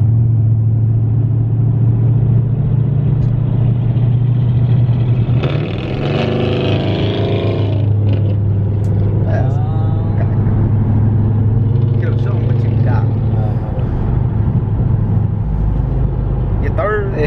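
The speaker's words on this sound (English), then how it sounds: "we're gonna try to race this Camaro" A Chevrolet Camaro engine racing on the street at a car meet, with a loud continuous rumble that swells as it revs and accelerates while people talk over it.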